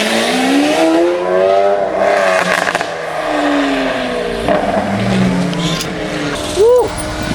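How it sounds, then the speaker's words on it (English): A loud exotic car engine idles and revs nearby among other cars, its deep burbling note rising and falling, with people talking and exclaiming over it and a brief tire squeal near the end. "That thing's idle is so loud."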